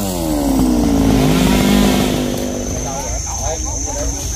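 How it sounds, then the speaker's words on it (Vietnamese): A chainsaw engine drones loudly and steadily, its pitch rising and falling as it bites into the wood of a small sao tree, with a voice faintly audible underneath. "Bắt đầu cưa cây sao nhỏ như vậy rồi qua luôn cái bần nha cả nhà."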